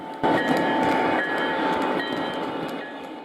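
An O gauge model train rumbles along its track close by, a continuous whirring roll with faint rhythmic clicks over the rails.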